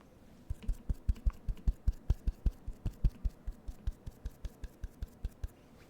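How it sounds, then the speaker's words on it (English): Hands clap in a steady close-up rhythm at an ASMR table while a loose cord slaps the tabletop on each beat. About twenty sharp, thumping hits come evenly spaced with no talking. "The stupid cord is hitting the table while I'm clapping."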